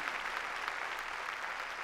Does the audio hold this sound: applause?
yes